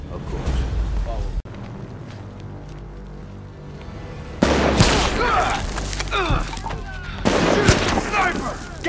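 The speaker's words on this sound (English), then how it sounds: "You hear gunfire, you get behind something." Gunfire from the shooter video game Army of Two: The Devil's Cartel crackles in dense, overlapping bursts over a low rumbling background, growing louder and busier midway through, with no talk.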